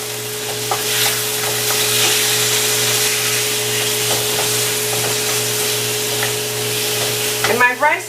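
Chicken fried rice sizzles steadily in a hot pan with fish sauce squirted in, a loud continuous frying hiss broken by light scraping stirs, with a steady hum beneath and a few sharper clatters near the end.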